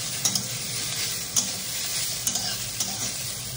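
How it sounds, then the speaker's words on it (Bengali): Vegetables fry with a steady hiss in a pan while a utensil stirs them, the stirring marked by several sharp scraping clicks against the pan, close and continuous, for a chicken salad. "এই তো চিকেন স্যালাড বানাবো, তো সেই জন্য এগুলো ভেজে নিচ্ছি"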